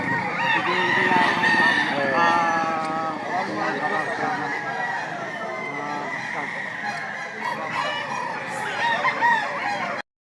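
Rooster crowing amid a busy poultry market, with other fowl clucking and honking nearby and people bargaining over the price of a chicken throughout, voices overlapping the repeated crows.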